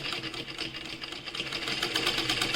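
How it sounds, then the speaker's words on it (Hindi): A sewing machine runs steadily at close range, stitching along the edge of a placket in a fast, even mechanical whir with no pauses. "और फिर ये जो है हम सिलाई किनारे की सिलाई लगाएंगे"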